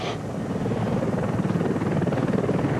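A Mi-24 military helicopter thunders nearby with steady, loud rotor chop and engine roar throughout.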